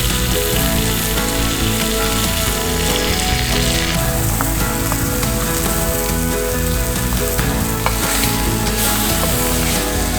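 Steak searing and being moved around in a hot frying pan, a loud dense crackling sizzle that holds steady and unbroken throughout, close up.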